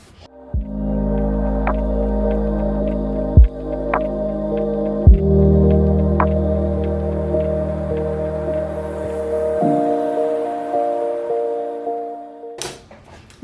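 A sewing machine stitches steadily along a marked black line, with a continuous motor hum and fast needle throbbing running for most of the span, a few sharp clicks marking adjustments, and a pause near the end.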